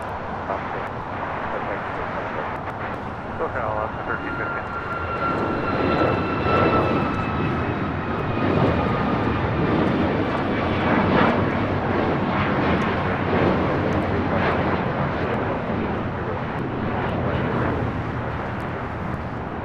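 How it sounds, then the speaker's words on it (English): Alaska Airlines Boeing 737 MAX 9 taking off from LAX for Portland, a building jet roar with falling whine tones that swells mid-way and then holds steady, and speech comes and goes over it. "1315 taking off to Portland on a MAX 9."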